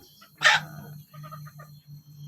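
Free-range village chickens cluck nearby, with one sharp louder squawk followed by a series of short, soft clucks over a low steady hum.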